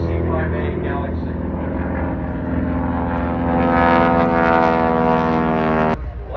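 A Cessna 182 four-seat propeller airplane flying at Oshkosh, a strong droning engine note that swells louder midway, then cuts off abruptly near the end, with faint voices under it.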